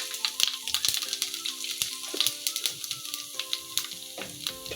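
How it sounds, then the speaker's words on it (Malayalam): Mustard and cumin seeds crackle in hot oil while tempering for a papaya thoran, with rapid irregular pops and snaps over a continuous close sizzle, no talking. "ചെറിയ ജീരകം ഇട്ട് പൊട്ടിയില്ലോ"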